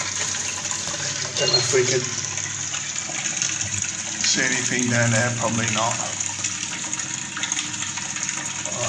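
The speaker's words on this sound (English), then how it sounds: "that noise is the water running through the screen and running down the bore" Water trickles and rushes steadily through a well screen and down a bore during a drought-related well clean-out, a continuous hiss with gurgling bursts, partly under a man's speech.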